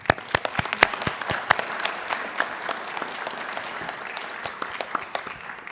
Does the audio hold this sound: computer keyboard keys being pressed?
no